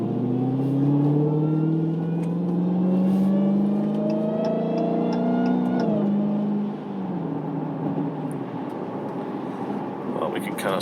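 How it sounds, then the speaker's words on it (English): Dodge Challenger Hellcat Redeye driving in the rain, its engine note rising steadily as it pulls, then dropping off into a rumbling exhaust burble at lower revs, loud and close from inside the car. "I love that exhaust sound though, the burble."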